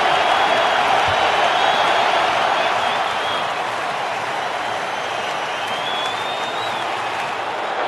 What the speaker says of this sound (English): Crowd's gone mad.